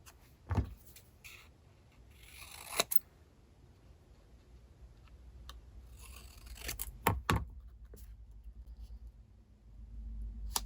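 Cardstock is trimmed for card making, with a few sharp slicing swipes of a paper trimmer and soft paper handling nearby, spaced apart in a quiet room.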